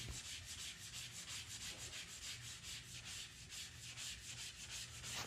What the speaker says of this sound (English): See how I'm sanding where the old and new meet?